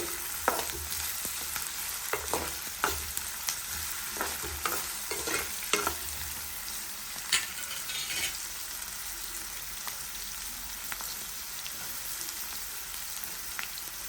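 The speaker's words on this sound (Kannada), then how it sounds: "ಇನ್ನು ಸ್ವಲ್ಪ ಗೋಲ್ಡ್ ಕಲರ್ ಬರೋವರೆಗೂ ಹುರ್ಕೋಬೇಕು" Onions frying in a pan while being stirred toward golden brown for hotel-style egg curry: a steady soft sizzle with repeated sharp clinks and scrapes of the stirring spoon, close and alone.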